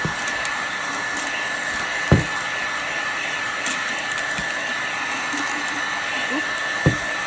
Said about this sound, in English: All right, here we go. Heat gun again.